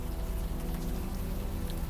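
Rain falling in the video game Unavowed, a steady hiss of droplets on surfaces with low rumbling ambience, continuous and even.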